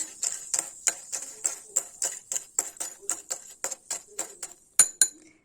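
A blackened metal bag chain is stirred in cola, giving a quick, steady series of light clinking taps against the container. The close, bright, evenly spaced ticks run for several seconds without talk.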